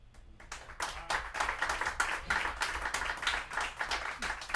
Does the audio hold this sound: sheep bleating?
no